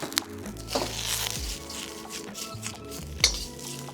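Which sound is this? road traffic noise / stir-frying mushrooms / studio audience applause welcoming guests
stir-frying mushrooms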